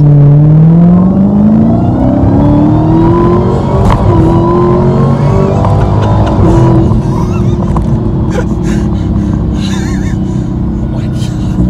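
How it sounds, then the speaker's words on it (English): A supercharged 2018 Dodge Challenger SRT muscle car accelerates from low speed, its engine rumble rising steadily with a high supercharger whine climbing in pitch over the continuous loud drone. "you can hear the supercharger whine, which sounds great."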